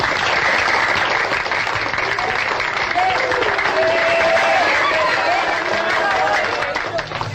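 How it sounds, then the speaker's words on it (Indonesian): Loud audience applause at a quiz contest between competing teams, a thick sustained roar of clapping from a crowd, with faint voices and a brief tonal sound mixed in partway through. "Tepuk tangan."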